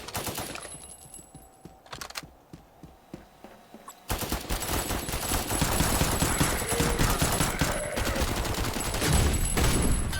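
Sniper gunfire in the video game Half-Life, a few sharp shots early on, then a dense, loud barrage of rapid gunfire filling the rest of the clip.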